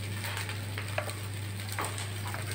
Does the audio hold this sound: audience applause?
no